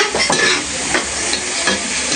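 Garlic, onion and tomato sizzle and fry in a pan, with steady hissing and occasional stirring scrapes close by, no voices.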